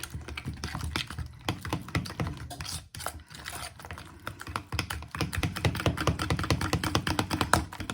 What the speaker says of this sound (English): I'm going to use my little fork to get these eggs and pumpkin puree mixed